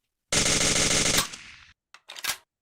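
A WOG airsoft submachine gun fitted with a suppressor fires one loud, rapid full-auto burst lasting about a second, followed by a few short mechanical clacks, close and alone.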